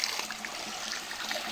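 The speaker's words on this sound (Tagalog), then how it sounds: "Yung nakikita mo yung tubig doon umaagos" Spring water from a mountain source flowing steadily, a soft continuous trickle and gurgle heard up close at low volume, with no talking.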